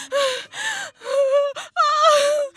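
A voice imitates a frightened woman panting: about five loud, drawn-out, breathy gasps in quick succession, close and alone.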